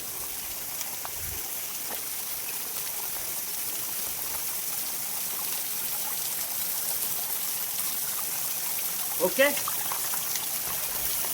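Forest stream water trickling and flowing softly and continuously, fairly faint, with a few brief bursts of speech from people nearby.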